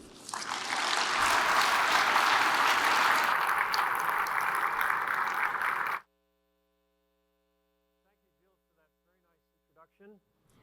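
An audience applauds a speaker at a lecture on Fermat's Last Theorem: dense, steady clapping from a sizable crowd lasting about six seconds, then cutting off to near silence with a faint hum and a few soft stray noises.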